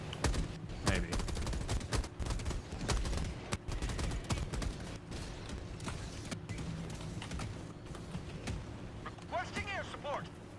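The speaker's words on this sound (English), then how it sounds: "the mortar certainly is shelling the fuck out of this side" Mortar sentry fire in a sci-fi shooter game pounds a position with rapid overlapping blasts and crackling gunfire, dense early and thinning later, while someone talks over it.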